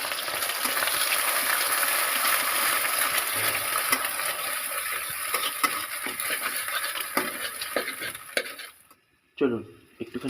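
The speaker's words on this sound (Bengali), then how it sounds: "আমি ডিমটা ভাজতে দিয়েছি ডিমের একটু ঝুড়ি ভাজা করে নিই" An egg fries in a pan in a home kitchen, a steady dense sizzle with faint stirring and scraping that suddenly stops near the end.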